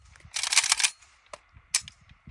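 A WBP Jack AK rifle fires at steel plates outdoors: a dense burst of several rapid, loud cracks, then a pause and a single sharp report, with faint background rustle between.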